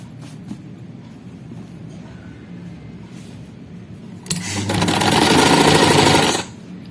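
A sewing machine stitches a kameez placket, first faint handling noise, then a loud steady whirring run of about two seconds that stops abruptly.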